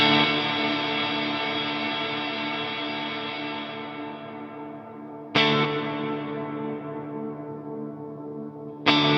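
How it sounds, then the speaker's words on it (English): A sustained guitar chord through a Fender Hammertone Reverb pedal, hall setting with no dampening, rings out with a long, bright reverb tail that slowly fades, then two more sharp strums start fresh washes of reverb. "here is a big reverb in a hall style with no dampening whatsoever"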